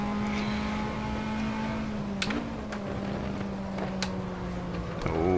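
Formula Ford race car engine in the Race 07 game at Croft, a sustained steady engine drone holding pitch, then a gear shift and a brief rise at the end, with faint clicks over it.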